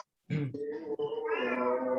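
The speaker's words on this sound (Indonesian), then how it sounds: "Suara kucing besar sekali itu." A house cat meows loudly and close by, a long drawn-out wailing call that rises and holds for almost two seconds after a short silence, with no talking over it.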